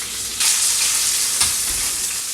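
Lamb racks sizzle steadily in a hot pan, a loud continuous frying hiss with a couple of brief sharper crackles and stirs, with no talking.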